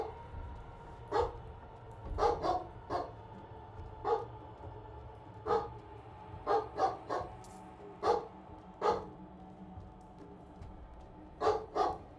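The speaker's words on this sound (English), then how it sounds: "Onyx is barking a lot," Onyx, a dog companion in the game Diablo IV, barks repeatedly in single and doubled yaps spread irregularly across the stretch, clear and mid-distance over a low steady game background.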